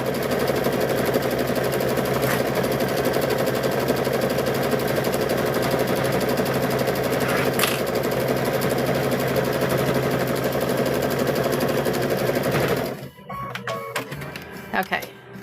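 A sewing machine stitches quilt binding in one loud, continuous close run lasting about thirteen seconds, then stops and gives way to light handling sounds with voices.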